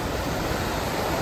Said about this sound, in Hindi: सुंदर दृश्य, ऊपर से झरना आ रहा है